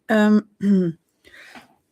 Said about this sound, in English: Oh, I need to cough also.